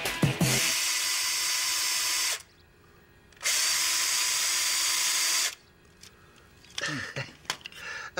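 A handheld power drill runs loud and close in two long bursts of about two seconds each, with a short pause between them, then trails off into a few scattered clatters and knocks.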